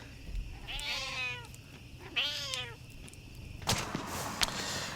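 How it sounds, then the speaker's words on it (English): Several cats meow in turn: two drawn-out nearby meows, then a sharper, noisier cry, each distinct against a quiet background. "this is too many cats"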